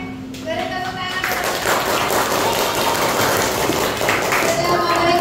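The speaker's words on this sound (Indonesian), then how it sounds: "Oke, beri tepuk tangan." A school class applauding together, a dense burst of clapping from many hands that swells and holds steady at close range for several seconds, with a few voices mixed in.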